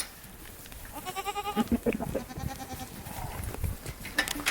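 Several bucks bleat at does in heat in quick, wavering calls, loud and close, with rustling and shuffling around them.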